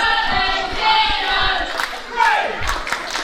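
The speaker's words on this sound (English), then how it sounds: "It's great to hear our fans getting behind Steve Valentino" A wrestling show crowd cheers for a wrestler in a steady, dense roar, with scattered shouts and a few sharp claps rising out of it.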